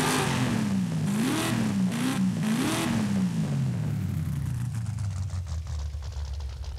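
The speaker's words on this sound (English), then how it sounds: "That's a new effect they added as well, that the idling of the car" A 1996 Chevy Impala engine in the Forza Horizon 5 racing game, its loud, steady note wavering up and down before settling into a low, even idle drone, with no talking.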